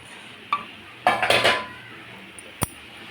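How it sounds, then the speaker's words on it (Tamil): Mushrooms are stirred in a cooking pan: a few metal utensil scrapes and clinks against the pan, with a brief cluster of scraping in the middle and a sharp single clink near the end, faint sizzle underneath. "போட்டு நல்லா கிண்டுவோம்."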